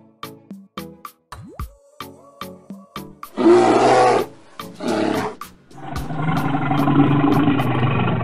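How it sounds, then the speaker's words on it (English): Animal roars, a bear-like growl and bellow, burst out loud and close after a series of short rhythmic plucked tones, with a longer rumbling roar trailing to the end. "Bears."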